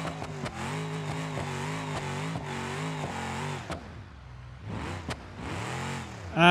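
A Ford Crown Victoria with an overheating engine in BeamNG Drive revs hard in repeated rising and falling surges, dropping away briefly before climbing again, steady and moderately loud.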